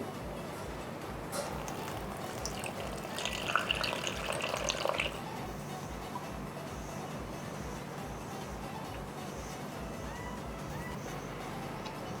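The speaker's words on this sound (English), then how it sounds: "so we will add a little water more" A brief trickle of water poured into flour for a couple of seconds, quiet and close, then only faint room noise continues.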